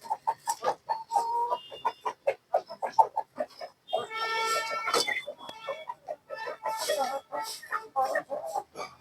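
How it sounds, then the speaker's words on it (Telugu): A rooster and hens on a rooftop terrace farm cluck in a steady, busy stream of short calls, with a louder drawn-out call in the middle, moderately close. "ఆ పుంజు చూడండి ఎంత ఉందో, ఇంత పెద్దగా అయిపోయిందో."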